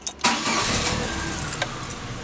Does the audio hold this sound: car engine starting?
yes